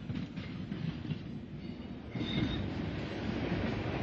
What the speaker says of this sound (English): Vying with the Golden Arrow for the title of the Southern's best-known train was the Brighton Belle, seen here passing through Weaversfield in BR days.